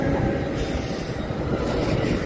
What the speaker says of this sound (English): Here's an EXO train coming.